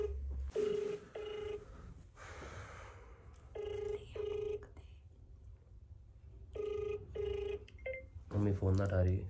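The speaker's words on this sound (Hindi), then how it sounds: "मम्मी फोन ना उठा रही" Ringback tone of an outgoing mobile phone call: short, steady tone pairs repeat at regular intervals with quiet gaps between them, and a voice speaks briefly at the end.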